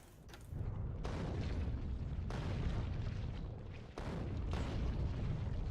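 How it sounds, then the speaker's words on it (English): Artillery barrage in the Factorio video game, a continuous rumbling wall of distant booms and explosions that rolls on for several seconds, briefly dipping before resuming. "Here they come. The artillery from everywhere."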